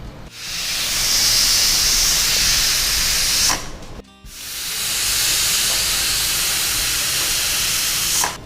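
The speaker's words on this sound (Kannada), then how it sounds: "ಆಲ್ರೆಡಿ 2 ವಿಸಿಲ್ ಆಯಿತು, ಆಫ್ ಮಾಡ್ತೀನಿ" A pressure cooker whistle in a home kitchen, cooking egg biryani, releases steam in two long, loud, close hissing blasts with a brief pause between them.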